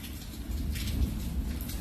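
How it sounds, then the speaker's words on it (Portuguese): Gentle rain falls steadily outdoors, making a dense, even hiss with a soft low rumble underneath and no pauses. "Eu não sei se aí está chovendo, se está uma chuva mansa como aqui."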